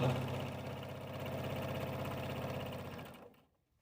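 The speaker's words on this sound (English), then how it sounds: "We're going to sew down both sides and the bottom of this bag." A sewing machine runs in a steady, close, rapid mechanical whir while stitching the sides of a tote bag, then winds down and stops near the end.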